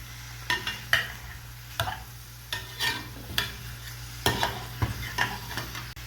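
Beef bourguignon simmering in a pot with bacon fat and beef fat, giving a steady low bubbling with a series of short stirring and scraping bursts spaced unevenly, close by and moderately loud.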